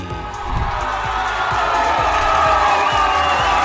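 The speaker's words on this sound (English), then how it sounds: "Loving the simulated cheering" Loud simulated crowd cheering plays during a sports fan talk show, a sustained roar of many voices with whoops rising and swelling over the whole stretch, close and continuous.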